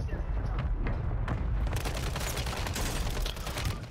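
Gunfire during a Warzone 3 multiplayer match with a no-recoil Striker loadout, sounding as dense rapid bursts and booms that fill the whole stretch, loud and continuous, with players talking over it.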